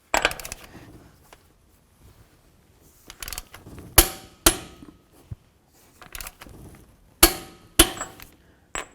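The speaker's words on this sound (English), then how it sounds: "It's time to torque down this axle nut," Torque wrench tightening an axle nut on a 2007-14 Cadillac Escalade, sharp metallic clicks and clanks in scattered bursts with quiet gaps between, close and crisp.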